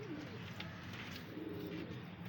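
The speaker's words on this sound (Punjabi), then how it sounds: "ਕਬੂਤਰ ਹੈ।" A pigeon coos faintly a few times, half buried in a steady broadband background noise.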